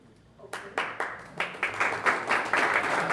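Applause from a chamber of commerce breakfast audience builds quickly into a steady round of clapping, fairly close and sustained to the end.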